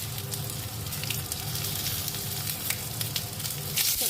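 Panch phoron spices crackling in hot oil in a wok for mixed dal with potatoes, a dense steady close sizzle with faint stirring scrapes and a brief louder burst at the end.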